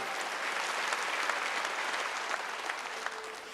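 Steady applause from a church congregation at a Wednesday worship service in Korea, many hands clapping together at moderate distance, sustained without pause and no clear speech.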